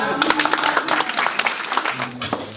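A small crowd gathered around a street performer claps briefly, an uneven patter of hands close by, mixed with some chatter and voices.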